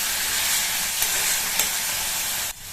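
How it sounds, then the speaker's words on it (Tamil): Onions being sautéed in a pan for kulambu, a South Indian curry, give a steady, close sizzle with a few soft clinks, then cut off sharply near the end. "அது தவிர இந்த வெங்காயமும் வேகமா வதங்கிரும்."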